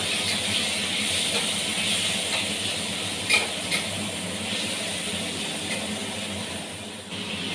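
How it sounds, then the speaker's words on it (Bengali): Prawns fry in hot mustard oil in a wok, giving a steady, dense sizzle throughout. A couple of brief clatters of stirring rise above the hiss partway through, and there is no voice. "এবার আমি চিংড়ি মাছগুলোকে চলুন চিংড়ি মাছগুলোকে"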